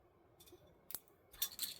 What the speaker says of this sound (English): What we want to do is just gently cut.